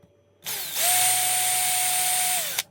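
A power drill drives a screw into a Pat Green drum carder being refitted with new carding cloth, a single close, loud whir that rises in pitch, holds steady for about two seconds and then winds down.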